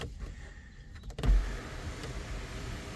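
Electric sunroof of a Hyundai Ioniq 28 kWh sliding open, a steady low motor whir running through the whole clip after a brief clunk near the start, heard from inside the cabin with no talking.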